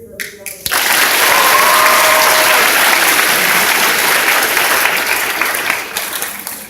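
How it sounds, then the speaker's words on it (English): An audience at a school music honors event breaks into loud, sustained applause after a short pause, a thick close wash of clapping that holds steady and eases slightly near the end. "Please give her a big round of applause."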